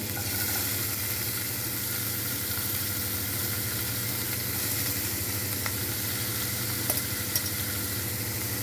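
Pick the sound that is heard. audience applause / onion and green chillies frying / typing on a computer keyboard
onion and green chillies frying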